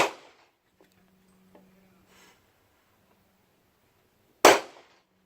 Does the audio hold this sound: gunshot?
yes